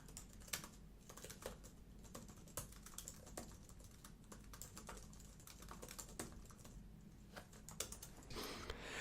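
Notes typed on a computer keyboard make rapid, irregular key clicks in close, quiet bursts that run the whole time without talk.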